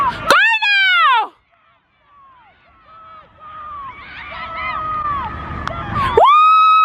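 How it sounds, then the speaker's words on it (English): Outdoor crowd noise rises steadily at a running race, with shouting and cheering voices building toward loud shouts, and a high squealing tone at the start and end. "Did you hear our cheer squad?"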